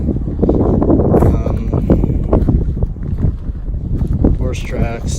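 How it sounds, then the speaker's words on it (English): Strong gusting wind buffets the microphone outdoors on a hillside at an old building site, a heavy low rumble with bursts and crackles, and a person talks under the noise. "So sorry about the wind, it's crazy windy today."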